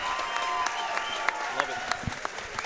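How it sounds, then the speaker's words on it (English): A boxing crowd applauds both fighters before a split decision at a professional boxing night, steady clapping with sharper individual claps, while a voice talks over it. "let's have a nice round of applause for both fighters"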